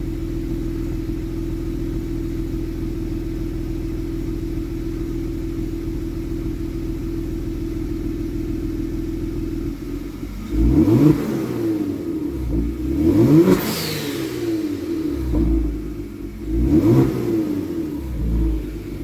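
A 2018 bagged Kia Stinger fitted with an ARK mid pipe exhaust idles with a steady low drone. Partway through, it breaks into three loud, throaty revs that rise and fall, heard up close.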